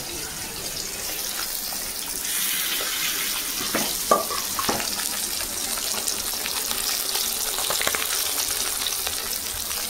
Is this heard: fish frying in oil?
yes